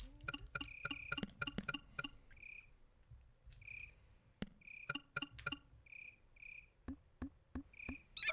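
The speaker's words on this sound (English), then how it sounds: "I need to be catching those bugs if I want to collect them for my bureau." Insects in Nanatsu Kaze no Shima Monogatari chirp in short repeated tonal bursts. They are interspersed with soft clicks and taps, faint and close, with no speech.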